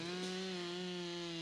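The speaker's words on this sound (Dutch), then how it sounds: "De zaag gaat er super makkelijk doorheen." Chainsaw cutting through a large pine tree while the operator climbs it, a steady loud close engine drone with a constant pitch and no talk.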